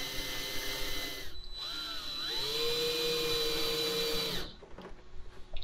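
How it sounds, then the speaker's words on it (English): Power drill driving screws to tack down the corners of a Dura Skrim grow bed liner, a whining motor run rising in pitch and holding steady for a couple of seconds before stopping, close and fairly loud. "You tack down the corners with a few screws."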